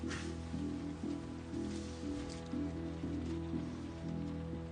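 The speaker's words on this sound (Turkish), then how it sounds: "Yağmur başladı" Steady rain falls at night, a soft continuous patter on surfaces with a low constant hum underneath, no voices over it.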